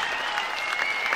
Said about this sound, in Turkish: Hadi alkışlarla dinleyelim.